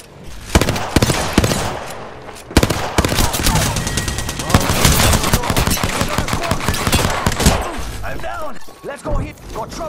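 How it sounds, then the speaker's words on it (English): Heavy video game gunfire, sustained machine-gun bursts and scattered single shots crackling close and loud for most of the stretch, with game voices faintly underneath and the shooting thinning out near the end. "Taking fire. I'm getting shot."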